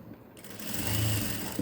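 A sewing machine stitching a fancy saree blouse, its motor starting after a quiet moment and running as a low, steady whir for about a second, faint and close.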